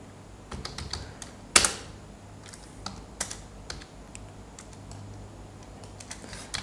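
Code is typed on a computer keyboard up close, with irregular bursts of key clicks and one louder clack, alone with no talking.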